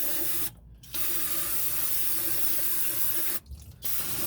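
Cleaner is sprayed into a car differential housing on a sloping driveway as a steady hissing spray, broken by two brief pauses.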